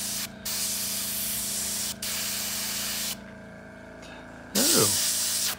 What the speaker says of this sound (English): we have come to the point where I have to rinse out my airbrush for once